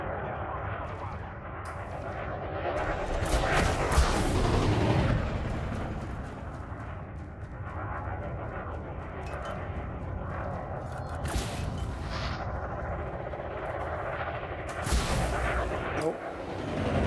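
Ship weapons fire in the space combat game Elite Dangerous, with a dense rumble of booming blasts and sharp bursts, swelling and fading over a steady background, louder near the start and again near the end.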